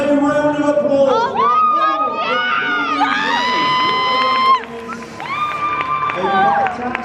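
A crowd at a PCA East Midlands physique show cheers, whoops and shouts loudly and continuously, with excited high voices calling out over the noise.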